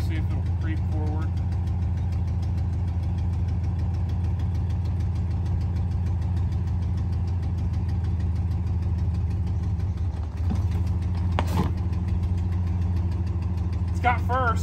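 A 1954 Ford Mainline engine runs steadily as the car creeps forward in first gear, a loud even low idle with faint knocking and a brief clunk partway through, while someone talks over it.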